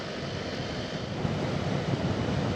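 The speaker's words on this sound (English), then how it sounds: "it's nice to get that bit of wind in your face" Steady rushing wind roars across the microphone while riding a motorbike on a mild day, a broad, constant buffeting hiss with no voices.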